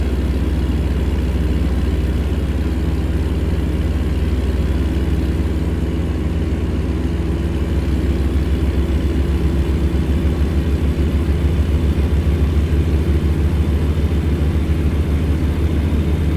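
A heavy truck engine in American Truck Simulator hums low and steady, droning at constant revs with no pauses or talk over it.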